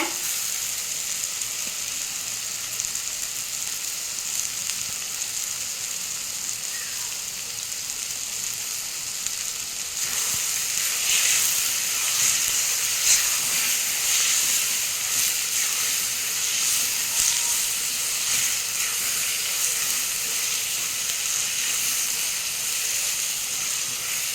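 Tomatoes sauté in a pan for a green lima bean and eggplant stir-fry, giving off a steady sizzling hiss that grows louder and brighter about halfway through, with occasional stirring and no talk.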